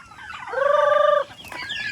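A single loud, warbling turkey gobble rises and holds for under a second, with fowl calls faintly around it in the background on a free-range farm.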